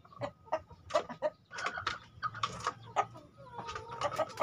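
Several chickens, five Plucker hens and one native village chicken, cluck and murmur close by in a pen in a busy, overlapping chorus, with soft rustling beneath and a low steady hum.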